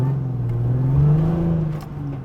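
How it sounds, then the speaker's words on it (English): Mk1 Ford Escort built from Sierra and Mondeo ST parts, all-alloy engine with around 300 horsepower, revving hard as the rear wheels spin; a steady, loud engine drone rises and falls close by with no talk. "It spins the wheels easy, mate, doesn't it?"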